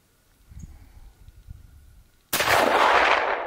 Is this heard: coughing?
no